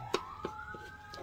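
A fire station siren tone sweeps slowly upward in the distance, faint and thin, while a few nearby clicks and taps sound in the foreground.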